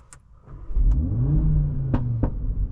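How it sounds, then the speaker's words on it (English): An Audi RS3 engine revs up, and its rising and falling tone is close and loud. Several sharp exhaust pops and bangs crack out, one near the start and a pair near the end. "That was quite a lot of pops and bangs."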